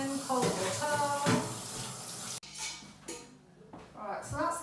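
Kitchen cold-water tap running over basmati rice in a sink, a continuous splashing stream that briefly cuts off midway and resumes with clinks of the pan.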